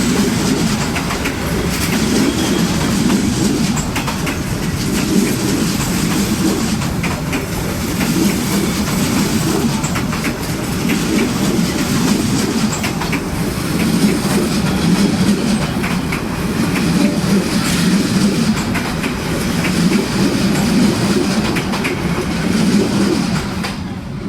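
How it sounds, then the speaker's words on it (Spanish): A train rolls slowly along a narrow street track in Hanoi, its wheels clattering in a steady clickety-clack with a continuous low rumble that stays close and loud for the whole stretch, no talk. "mientras esperamos el paso del tren."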